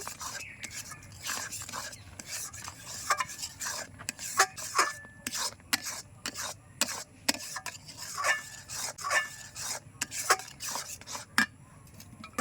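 Spoon stirring a thick mango mixture blended with fenugreek and fennel powder for mango barfi, giving repeated close scraping and rubbing strokes against the pan in an irregular rhythm.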